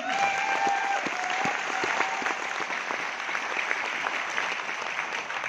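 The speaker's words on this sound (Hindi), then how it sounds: "जोरदार तालियां होनी चाहिए।" An audience at a direct-selling company event applauds loudly, dense clapping that holds steady and strong for the full few seconds with nobody speaking over it.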